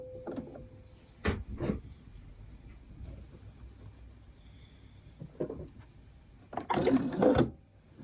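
A sewing machine stitches a fabric face mask in short mechanical bursts, a couple forward and a few back, with quiet pauses between runs and a longer, louder run near the end. No one speaks.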